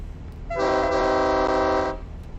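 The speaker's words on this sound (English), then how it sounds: "Don't stand on the tracks when a train's coming through." A train horn blasts in American Truck Simulator, a loud, sustained chord-like blare lasting about a second and a half over a low rumble of rail traffic, with no talking.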